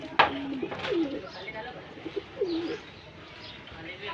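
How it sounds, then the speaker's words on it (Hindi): Pet pigeons coo softly in a few low, rolling calls close by at a home coop, with faint chirps and quiet background noise between them. "આપણા કબૂતરને પૂરવાનો ટાઈમ થઈ ગયો હ, તો કબૂતરને પૂર દઈએ"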